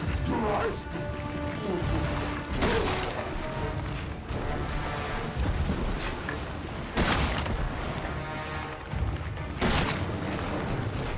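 Loud gunshots and crashing impacts ring out in the Resident Evil 7 boss battle against Jack Baker, several sharp bursts spaced a few seconds apart over a rumbling game background.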